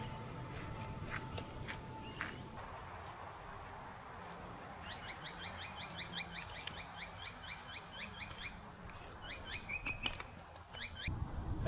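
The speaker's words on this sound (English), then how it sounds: "It's absolutely covered in pigeons. They've seen me and all got up and flown away." Pigeons lift off together from a big food processing plant, a burst of soft, fluttering wingbeats rising over outdoor ambience, with a few chirps and scattered bird calls mixed in nearby.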